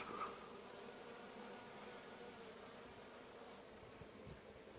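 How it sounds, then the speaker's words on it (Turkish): Honeybees hum around apple blossoms in a steady, continuous drone, many insects buzzing together close by with no voices. "Bunların hepsi bal arısı."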